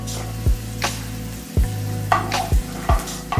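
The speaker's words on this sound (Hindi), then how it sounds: "ये सिंगदाना, इसे मैं अच्छे से रोस्ट कर लूंगी।" Peanuts roasting in hot oil in a pan for a spiced potato dish, heard as a steady close sizzle broken by several sharp stirring scrapes and knocks at irregular intervals.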